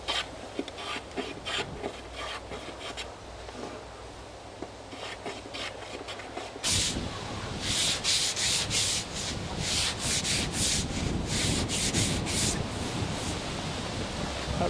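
Belt sanding a wooden mast spar: steady abrasive rubbing, quieter at first, then a louder, harsher stretch of repeated rasping passes from about the midpoint onward, close up with no talk.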